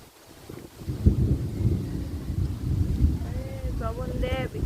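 Outdoor rain arrives under a blue evening sky, a dense rushing patter mixed with wind buffeting the microphone, while a voice speaks briefly near the end.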